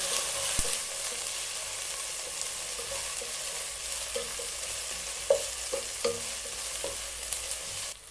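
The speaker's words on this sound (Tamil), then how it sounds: "புதினா சேர்த்து ஒரு 2 நிமிஷம் வதக்கி விடுங்க" Mint and coriander leaves sauté in biryani masala with a soft, steady sizzle, while a spoon scrapes and taps the pan now and then during stirring.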